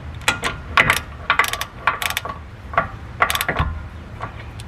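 A ratchet tightening 17 mm rear wheel hub bolts on a 2002-2006 Nissan Altima, with loud, close clicking strokes in repeated bursts and short pauses between them.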